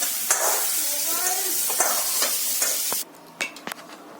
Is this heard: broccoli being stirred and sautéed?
yes